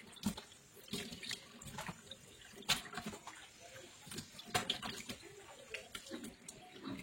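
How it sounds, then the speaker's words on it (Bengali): Tap water runs and splashes while a kitchen sink is washed after the dishes, an uneven broadband rush with clatters and brief knocks throughout. "সব বাসন ধোয়া শেষ হয়ে গেছে এখন সিঙ্কটাও ধুই দিচ্ছি"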